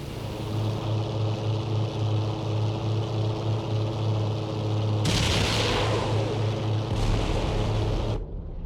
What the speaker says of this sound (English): Rockets are away.